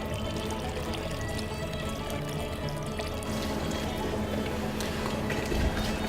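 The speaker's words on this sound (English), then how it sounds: "Then we add water because it's not enough chicken broth" Water poured steadily into a pot of chicken broth, a continuous dense splashing rush that holds at an even level throughout and stays close and loud, with no voices.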